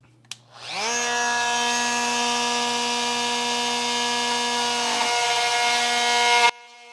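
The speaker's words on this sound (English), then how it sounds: "We're going to go ahead and lop it off right around here using our oscillating tool." An oscillating multi-tool cuts through a basement drain pipe with a loud, steady, high-pitched buzzing whine heard close up, starting after a brief knock and stopping abruptly after about six seconds.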